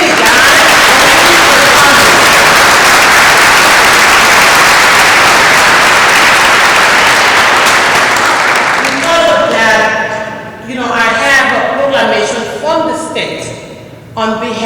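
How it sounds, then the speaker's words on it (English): Loud, dense applause from a crowd of mourners at a funeral, sustained for about nine seconds before thinning into scattered claps as a voice starts speaking over it. "So give him a big applause for that."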